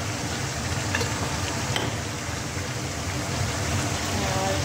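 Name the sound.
cumin powder added to hot oil, sizzling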